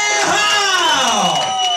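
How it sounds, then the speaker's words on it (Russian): An audience at a stage event cheers and whoops loudly and continuously, voices rising and falling over steady crowd noise, with no clapping clearly standing apart. "Ваши аплодисменты нашим представникам наикрутейшей стати."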